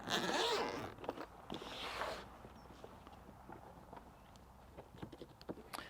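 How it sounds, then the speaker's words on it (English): A zipper being pulled open on a Starlink travel case, one long close zip followed by fainter handling rustles of the case. "So undo the zip like that."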